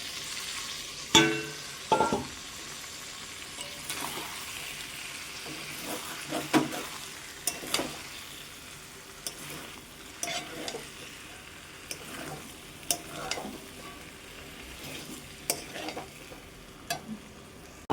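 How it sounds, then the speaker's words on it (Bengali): Potato and cauliflower pieces stir-fried in an oily spice masala, a soft, quiet sizzle broken by irregular scraping and clinking from a spatula against the pan, with no speech. "এইবার এই আলু আর ফুলকপিগুলো দিয়ে দেব। এই দেখুন, এগুলো দিয়ে আবার একটু কষিয়ে নেব।"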